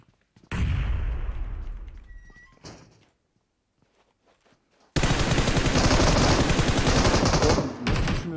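Gunfire and a grenade in a first-person shooter game: a heavy burst that decays over about two seconds, a short thump, then near silence, followed by a sustained loud barrage of rapid shots.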